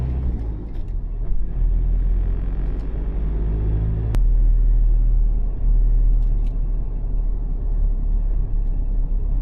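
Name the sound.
right-hand-drive car driving on a road in Laos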